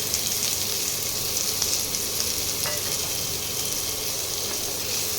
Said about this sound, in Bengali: একটু টমেটোটা ভাজা ভাজা হোক